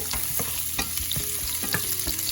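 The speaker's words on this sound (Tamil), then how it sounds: "எண்ணெய் காஞ்ச உடனே இந்த பூண்டை லேசாக வதக்கிக்கோங்க" Garlic sautéing in hot oil in a pan, the start of a Chettinadu-style asparagus fry: a constant close sizzle broken by quick, regular spatula scrapes and taps.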